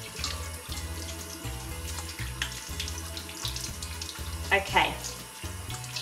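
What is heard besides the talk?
rinsing octopus under running tap water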